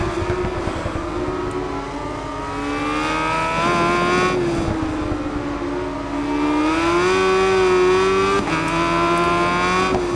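A racing motorcycle engine in the Ride 5 video game screams at high revs, pitch rising and falling through gear changes and braking, loud and continuous with no talk.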